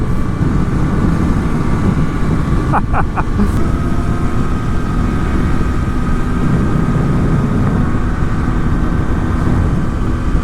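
Kawasaki ZX-10R motorcycle engine on a ride, a continuous loud engine drone with wind noise throughout and a few brief clicks early on.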